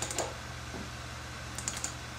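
A computer mouse clicks twice in quick succession while a PLC timer simulation is being run, then another quick pair of clicks follows about a second and a half later, crisp and close against a faint steady hum.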